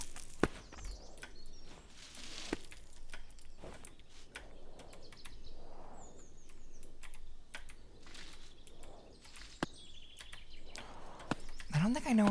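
Gentle bird chirps and tweets from a video game soundtrack, faint and intermittent, mixed with sharp clicks of keyboard typing.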